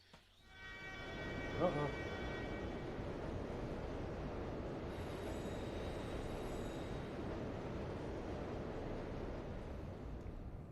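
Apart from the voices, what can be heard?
train passing in the video game Hybrid Heaven (N64)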